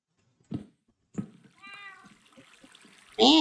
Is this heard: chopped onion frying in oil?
no